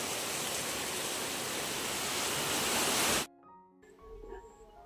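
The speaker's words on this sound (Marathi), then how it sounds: "अचानक एकाएकी की नाही असा जोरदार पाऊस सुरू झाला" Heavy sudden rain pours as a loud, dense, steady roar for about three seconds, then cuts off abruptly, leaving quieter background sound.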